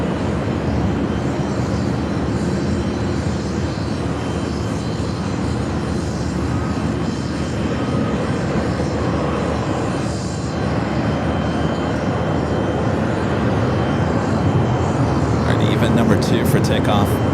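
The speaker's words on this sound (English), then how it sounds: "Coming up from Tokyo Haneda, another Delta A350-900." A Delta Airbus A350-900 jet airliner arriving at LAX from Tokyo Haneda gives a loud, steady engine roar that fills the whole stretch, with a voice talking over it.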